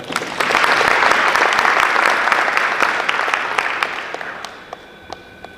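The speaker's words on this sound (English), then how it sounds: "Please give them another round of applause." At a youth entrepreneurship panel event, an audience claps for the panelists, the applause swelling quickly, holding for a few seconds, then tapering off into a few scattered last claps.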